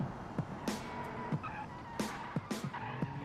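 A car driving in the BeamNG game with the Beam Turismo mod, engine humming steadily while repeated sharp tire skids and squeals cut in at irregular intervals, fairly faint with no talking.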